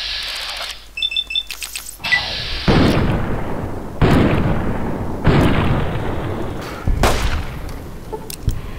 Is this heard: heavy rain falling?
no